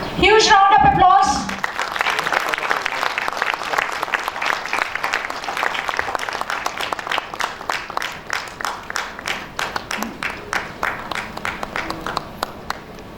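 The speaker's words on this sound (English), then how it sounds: "Huge round of applause." Sustained applause from an audience at a group award ceremony, dense clapping that follows a brief announcer's voice and then continues steadily and loud, thinning slightly toward the end.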